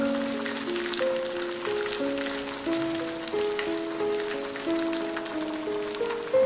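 Nuts and raisins fry in butter, giving a continuous crackling hiss with fine pops, while a steady melodic tune plays over it.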